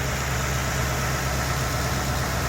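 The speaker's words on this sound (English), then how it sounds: "I'm going to be quiet now so that you can actually hear the engine idle." A 2008 Ford Crown Victoria Police Interceptor engine idling, a steady low rumble heard close and constant, no talking.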